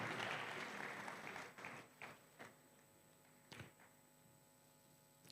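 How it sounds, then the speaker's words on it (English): An audience at an e-learning conference closing applauds an award winner, a brief burst of clapping that fades into a few scattered claps over a faint mains hum. "let's clap for him"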